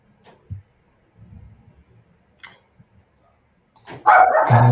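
A dog at a rural community in Brazil barks once loudly and close near the end, after quiet shuffling and faint background sounds.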